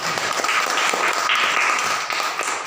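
Schoolchildren in a classroom clapping together, a dense, even patter of hands that holds steady for a couple of seconds with a slight dip near the end.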